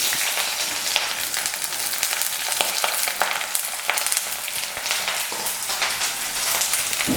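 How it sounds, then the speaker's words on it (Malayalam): Onion frying in hot coconut oil for a prawn fry: a steady, dense sizzle and crackle runs throughout, with occasional stirring scrapes, close and fairly loud with no talking. "ഞാൻ ആദ്യം സവാള ചേർക്കുകയാണ്."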